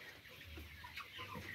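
Male broiler chickens clucking while feeding, soft low clucks and murmurs scattered through a faint, quiet background.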